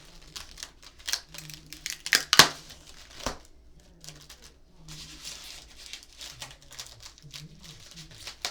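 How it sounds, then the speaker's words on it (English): Packing tape peeled off the packaging of a new Gretsch G5220 Electromatic guitar, giving a few sharp crinkling rips close to the mic, with soft handling noise and some talking between them. "Let's get this tape off."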